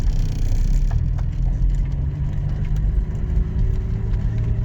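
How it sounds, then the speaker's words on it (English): A 1968 Jaguar MK2 240 manual pulling away in first gear, its engine giving a steady, loud, close low rumble with a faint whir and no talk over it. "So let me see, clutch, starter button, into first,"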